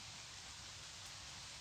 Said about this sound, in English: It started raining, by the way.